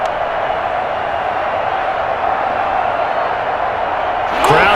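A crowd roars as a steady, dense wash of noise in Madden NFL 21 during a Ravens vs. Titans playoff game, with a faint voice underneath and a brief rise at the very end.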